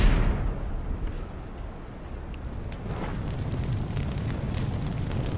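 Loud roaring fire in the virtual fireplace of the Little Inferno video game, a rushing crackling blaze that swells at the start and then burns steadily with scattered pops.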